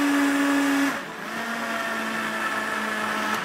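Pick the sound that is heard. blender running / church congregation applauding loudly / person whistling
blender running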